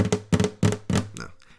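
Percussive golpe taps of fingers striking the golpeador plate of a flamenco guitar, four sharp knocks in a steady rhythm with ringing strings, close and alone.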